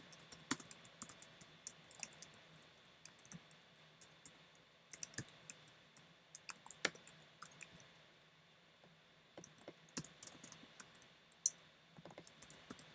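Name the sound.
typing on a computer keyboard while coding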